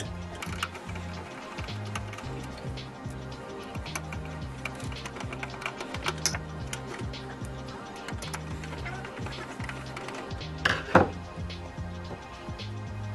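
A Phillips screwdriver turns screws out of a computer power supply, giving soft repeated ratcheting clicks in a steady rhythm close by, with one sharper clack near the end.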